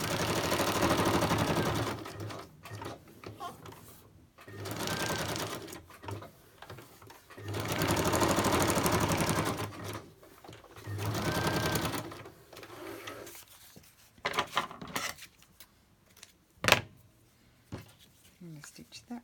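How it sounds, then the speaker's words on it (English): Sewing machine stitching fabric for a decorated Christmas folder, running in several distinct bursts of steady whirring separated by pauses, close by, with a few clicks and handling noises toward the end. "Let's just stitch those and then I'll decide the rest."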